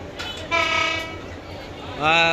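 A train pulls into a crowded railway station platform in Bangladesh, sounding two loud, sustained horn blasts over a rumbling background with crowd noise, close and prominent.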